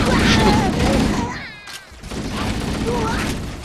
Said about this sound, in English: Oh my god, shoot him.